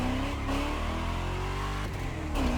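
A widebody Chevelle in The Crew Motorfest revs hard with a steady, loud engine drone, its pitch sliding up and down through the shifts and a few pops and bangs breaking in near the end.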